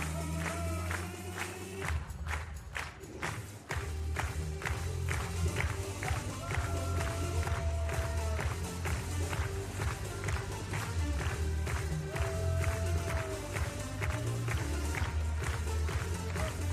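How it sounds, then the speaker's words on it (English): A stadium crowd at a high jump competition in Košice claps rhythmically in unison, a steady, dense patter of many hands with cheering underneath, continuing at an even level throughout. "he keeps it up to massive cheers from the crowd"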